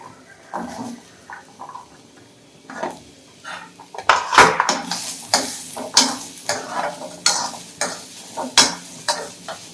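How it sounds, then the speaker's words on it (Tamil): Small onions sautéed without oil in a pan for a Tamil onion kulambu, with repeated clinks and scrapes of a spoon stirring against the pan and a faint sizzle, close and steady throughout. "வெங்காயம் வதங்கட்டும்."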